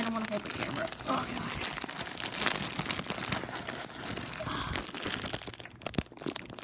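Plastic packaging of a chain chomp plush toy crinkles and crackles steadily as it is pulled open, close by, with voices talking over the rustling.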